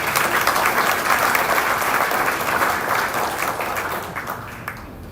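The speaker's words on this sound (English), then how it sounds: "So please clap for yourself for coming for this conference." Sustained applause from a conference audience in Nairobi, a dense steady wash of clapping that holds strong for several seconds before gradually thinning and fading out.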